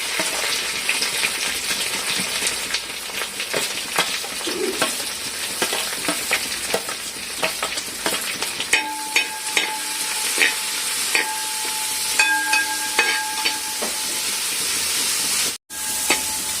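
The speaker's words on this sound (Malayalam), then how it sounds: "അരിഞ്ഞ വെച്ച സവാള ഇട്ടു." Chopped onions sizzle steadily in a hot pan for a chicken curry, a constant frying hiss with scattered crackles and occasional stirring scrapes, no voices.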